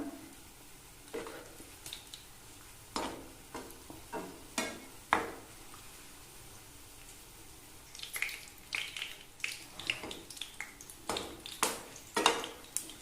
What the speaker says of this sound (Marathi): केळीच्या सालचे पकोडे गुलाबी लाल रंगाचे मी तळून घेतलेत